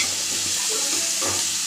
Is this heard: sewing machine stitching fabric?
no